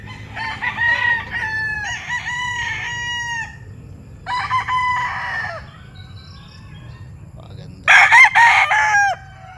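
Young Roundhead gamefowl stags crow in several overlapping bursts close by, with their harsh calls separated by short gaps and a faint low background hum.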